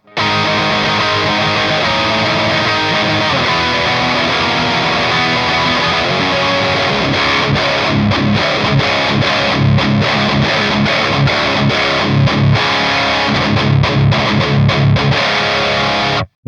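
An Infinia Ceres electric guitar on its bridge humbucker plays through a heavily distorted amp, loud and dense, with sustained saturated chords that break into choppier, rhythmic palm-muted bursts later on.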